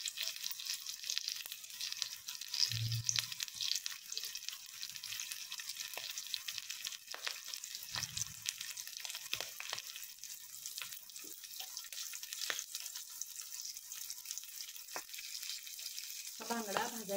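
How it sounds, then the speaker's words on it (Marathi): Mackerel (bangda) slid gently into hot oil in a pan over a very low flame, giving a steady, moderately loud frying sizzle and crackle throughout, broken by a couple of soft low thumps. "आता आपण हा बांगडा यामध्ये सोडूया."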